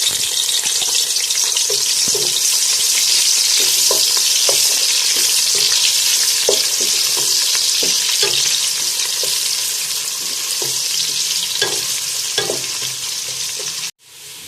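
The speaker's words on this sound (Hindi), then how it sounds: "अब हम इसके अंदर 2 स्लाइसेस में कटे हुए प्याज ऐड करेंगे और इनको ब्राउन" Sliced onions frying and browning in a cup of hot oil, a dense, steady sizzle with occasional stirring clicks and scrapes close by, fading slightly near the end before a sudden cutoff.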